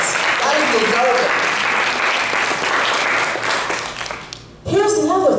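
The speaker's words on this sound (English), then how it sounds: "Round of applause." Strong round of audience applause at a Toastmasters district leadership training event, steady and close for about four seconds, with a voice briefly heard over it before the clapping fades and speech resumes.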